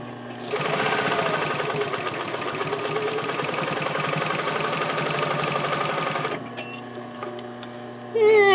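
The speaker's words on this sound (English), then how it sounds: "Now we're going to top stitch this." Domestic sewing machine top stitching with a zipper foot, a steady rapid mechanical whir and needle clatter running for about six seconds, close and loud, then stopping into quieter clicks and handling.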